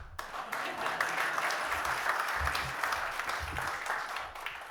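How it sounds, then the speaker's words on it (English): A crowd at a launch event for a digital innovation facility applauds steadily for several seconds, broad dense clapping that stays fairly even before tapering slightly at the end. "Clap then."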